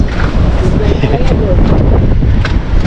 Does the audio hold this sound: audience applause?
no